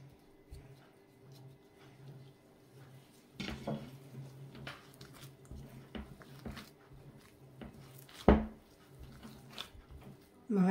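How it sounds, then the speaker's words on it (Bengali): Spoon scraping and clinking in a bowl while stirring cumin, garam masala and salt into a yogurt doi kebab mixture, scattered soft knocks and one sharp clink, fairly close and quiet. "সবটা একসাথে দিলে এরকম ভালো করে মিক্স করিয়ে নেব"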